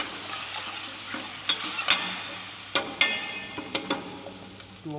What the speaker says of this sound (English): here I will add a little bit of vegetable stock that I have already prepared